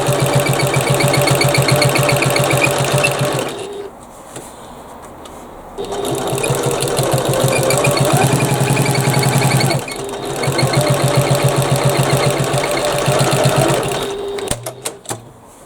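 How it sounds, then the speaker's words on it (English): A sewing machine runs in fast, steady bursts while reinforcing the corners of a handmade bag, with two short pauses between stitching runs and a few quick clicks at the end. "I reinforce the corners with a couple of extra stitches"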